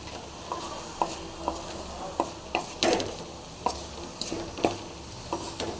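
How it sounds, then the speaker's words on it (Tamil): A spoon stirs boneless dried fish masala fry in a pan, scraping and tapping at a steady pace over a constant sizzle, close by and with no voices. "சேர்த்து நல்லா கலவிங்க."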